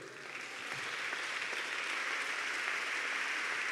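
A congregation applauds during a church sermon: dense, even clapping from many hands that builds quickly and holds steady, nearby and alone.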